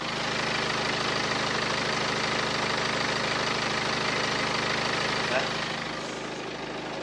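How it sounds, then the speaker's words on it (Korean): A BMW 520d diesel sedan engine idles steadily with a low, even clatter, close and continuous throughout, heard with the hood open. "바로 엔진 소리 한번 들려드릴게요."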